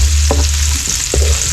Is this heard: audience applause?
no